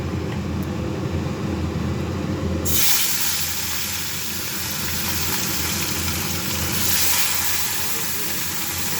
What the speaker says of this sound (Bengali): মাছগুলো ভাজা হোক।